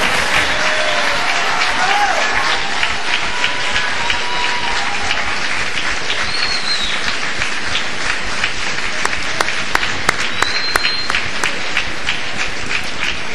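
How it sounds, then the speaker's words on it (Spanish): Sustained, energetic applause from an audience at an awards ceremony for notable bars at the Museo de Arte Visual Víctor Roverano continues evenly throughout, with occasional sharper claps standing out. "Fuerte el aplauso."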